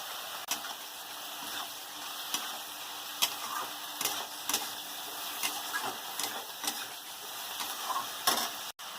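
Betel greens being stirred together with vegetables and turmeric in a pan, producing a steady soft sizzle with repeated scraping clicks and taps of the spoon throughout, with no talking.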